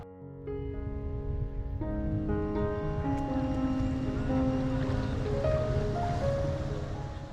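Boat ride on the Umngot river at Dawki, Meghalaya: steady rushing water and wind noise, with sustained tonal hum from the boat underneath, continuous and fairly loud.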